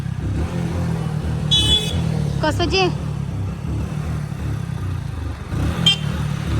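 A stalled car's engine being started gives a steady low motor rumble that runs through the whole stretch, with people talking over it and brief higher chirps now and then.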